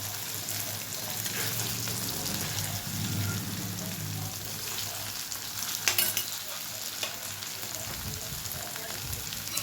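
Paneer fritters frying in a little oil on a tawa, giving a steady crackling sizzle like light rain that runs throughout, with a brief louder crackle midway and no talk.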